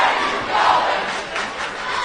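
A standing-room-only crowd at a high school basketball game in Kettering roars and shouts in a loud, continuous wash of voices that swells and dips within the gym.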